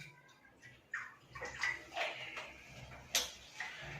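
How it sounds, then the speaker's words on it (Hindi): RO-purified water is poured a little at a time into a glass, giving faint, uneven splashes and trickles in a quiet room. "इन चारों में सभी प्रकार का पानी, मैं थोड़ा थोड़ा पानी डालता हूं।"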